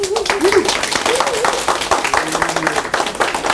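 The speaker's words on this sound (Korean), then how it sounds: "박수 한번 치고" A lecture audience claps briskly in a room, a dense run of hand claps lasting a few seconds with a speaker's voice audible over the start.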